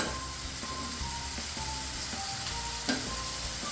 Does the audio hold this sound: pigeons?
no